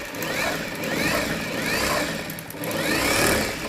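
A sewing machine stitching the armhole of a Rajputi suit, running in a continuous mechanical whir with rhythmic rising and falling pulses and a short dip midway, close and fairly loud.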